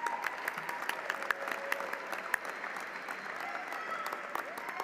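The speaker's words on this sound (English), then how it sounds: "Big round of applause, ladies and gentlemen, in congratulating all of the recipients of the Bachelor of Science in Biology" Applause fills a university commencement hall as a large audience claps steadily for Bachelor of Science in Biology graduates, a dense, even patter with a few sharper claps, at moderate distance and with no voices.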